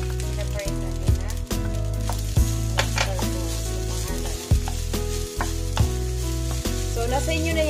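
Prepared omurice ingredients sizzle loudly in a frying pan, a constant close hiss broken by sharp clacks of a utensil stirring and tapping the pan.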